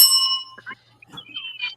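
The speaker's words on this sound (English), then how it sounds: "he'll ring that bell" A small hand bell rung several times, bright clear dings near and fairly loud at the start, followed by quieter ringing and brief voices.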